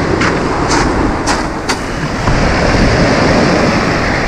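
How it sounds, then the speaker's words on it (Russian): Sea waves at a Black Sea beach in Lazarevskoye, Sochi, at sunset, a loud, continuous rushing surf with heavy wind buffeting the microphone and a few brief splashes early on. "Что хотел вам показать? Море,"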